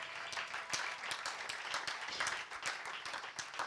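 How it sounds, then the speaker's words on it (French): A church congregation claps and cheers in praise, a dense, lively wash of applause with sharper individual claps popping through, steady and sustained throughout. "Est-ce que tu peux acclamer pour le roi des rois?"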